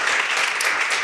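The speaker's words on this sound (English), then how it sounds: "Round of applause for our panelists." Brief burst of audience applause for a discussion panel's panelists, dense clapping filling the room for about a second.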